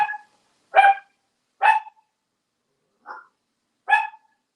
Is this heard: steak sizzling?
no